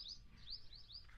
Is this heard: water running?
no